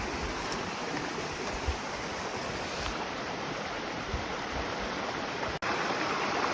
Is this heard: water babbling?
yes